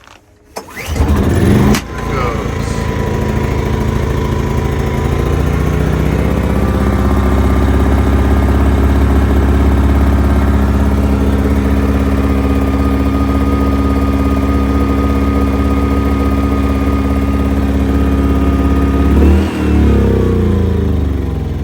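A Westinghouse iGen2200 portable generator fires up after a pull on its recoil cord, then settles into a loud, steady running drone close by for most of the clip before it cuts off near the end.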